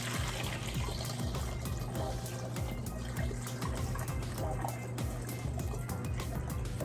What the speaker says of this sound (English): we're going to fill our bottle about 1/4 of the way full with water